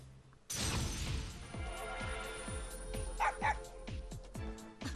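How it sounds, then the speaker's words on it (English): A dog in the video game P4 Arena Ultimax barks in a rapid, steady series of sharp yaps over a loud rumbling background, close and insistent. "sharp barking brings me to my senses"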